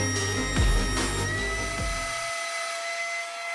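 A brand-new planer whines loudly as a cherry wood board is fed through, with rough cutting bursts that end after about two seconds, leaving the motor spinning alone with a high steady hum.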